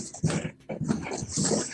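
Pet dog whimpering and whining indoors, a few close, breathy bursts with short pauses between them.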